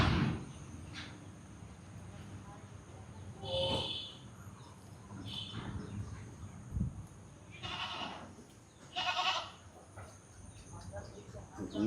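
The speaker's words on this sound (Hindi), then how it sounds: "चलिए लाइए बकरियाँ सारी।" Goats bleat on a goat farm, several short calls at a moderate distance with other animal noises and bird sounds around, under people talking.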